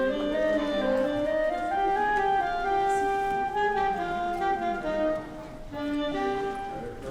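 School band clarinets play a short repeated motif with stepwise rising and falling notes, steady and moderately loud over faint room noise, with no talking.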